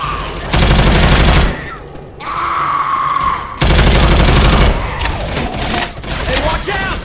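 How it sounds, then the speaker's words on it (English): Auto shotgun firing in Left 4 Dead 2, loud dense bursts of rapid shots at about half a second and again near three and a half seconds, with gunfire and game noise continuing between them. "Oh hell yeah, I'm taking auto shotgun."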